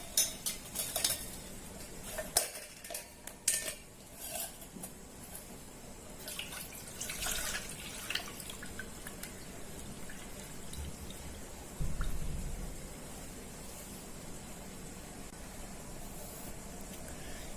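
Dissolved sugar syrup for a panakam drink is strained through a metal strainer, with light clinks, scrapes and trickling liquid at close range and a stir near the end.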